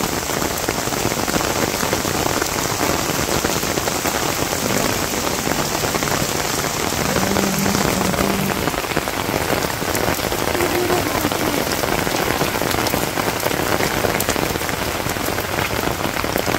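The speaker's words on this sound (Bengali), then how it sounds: "বৃষ্টি কমুক" Heavy rain pours steadily on a surface in a village, a dense, continuous roar of drops that stays loud and unbroken throughout, with no voices over it.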